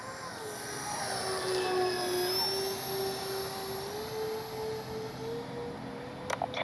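Avios Bush Mule V2 RC bush plane on its maiden flight, its electric motor whining steadily overhead with a slowly shifting pitch, loud and continuous with no talk.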